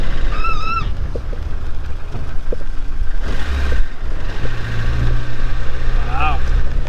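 A lifted Suzuki Samurai on beefy tires crawls in low-range four-wheel drive, its engine giving a loud, steady low drone close by, while people talk over it and a high whine rises briefly.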